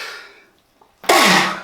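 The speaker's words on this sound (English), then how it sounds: "I've got a sneeze coming on." A man gives a single sharp, loud sneeze near the mic about a second in. It follows a fading breath and a brief quiet gap.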